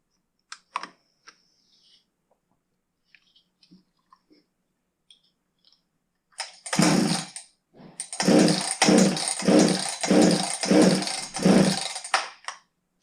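Husqvarna 359 chainsaw, unused for two years, being pull-started without running: after a quiet stretch of small handling noises come about seven rapid, rasping cord-pull bursts in a rhythmic series, close and fairly loud, with no engine catching.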